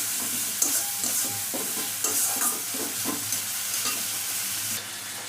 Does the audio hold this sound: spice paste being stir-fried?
yes